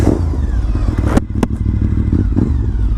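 A Honda RC51 VTR1000 SP2 V-twin sport motorcycle pulls away from a stop, its engine a loud, close, continuous throbbing drone with a brief sharp gap partway through as the rider shifts.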